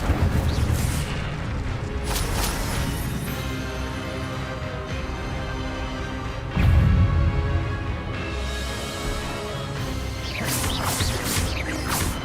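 The Incendio fire spell is cast again and again in Hogwarts Legacy: loud whooshing bursts and booming flares repeat through the stretch, layered over a dense game soundscape with no speech.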